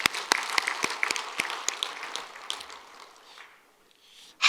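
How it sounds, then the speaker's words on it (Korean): Church congregation applauding during a Sunday service, with a few loud, distinct claps up front that blend into a brief burst of group clapping and then die away into near silence. "우리 하나님께 영광의 박수 드립시다."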